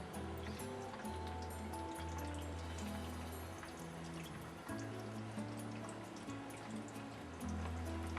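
Watts four-filter quick-change reverse osmosis system filling with water, a continuous gurgling trickle with bubbling drips and shifting low tones as the tank fills, close and fairly quiet.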